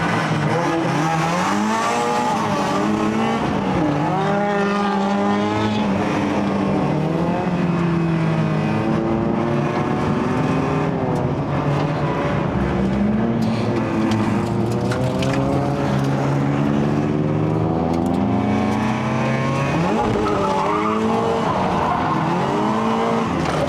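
A Toyota GT-86 fitted with individual throttle bodies revs hard around a race track, engine pitch rising and falling repeatedly through gear changes, with tire squeal and skidding, loud and continuous.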